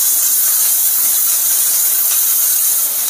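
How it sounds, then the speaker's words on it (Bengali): Onion and carrot frying in a little oil, a loud continuous close-up sizzling hiss that holds steady throughout with no stirring breaks and no voices. "এর মধ্যে একটু পেঁয়াজ, একটু এই পেঁয়াজ আর গাজরটা দিয়ে এটাকে একটু ভাজা ভাজা করব।"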